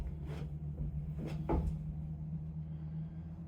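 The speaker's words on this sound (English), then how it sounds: "I'm really happy with how well that door closed." Door of a shower built from an IBC tote swinging shut, a few soft knocks and a firmer thump as it closes, quiet over a steady low hum, no talking.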